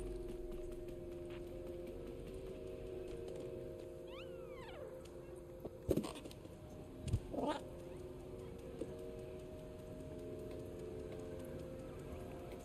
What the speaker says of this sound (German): Miau, um Feinde anzulocken.